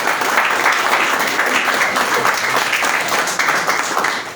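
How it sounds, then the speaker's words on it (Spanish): A crowd applauds steadily throughout a church service, a dense wash of clapping hands that stays loud from start to finish with no voices on top. "un fuerte aplauso para Luzmila, bienvenida."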